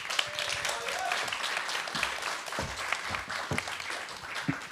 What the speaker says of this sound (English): let's everybody give a round of applause for Adam back